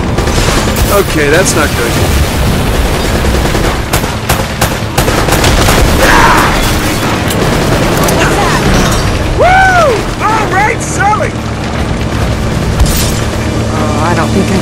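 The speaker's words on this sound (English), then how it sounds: "Now we've got some kind of rocket launcher!" In Uncharted: Drake's Fortune, a rocket launcher fires amid loud booms, explosions and gunfire, close and chaotic, with someone speaking briefly over the noise.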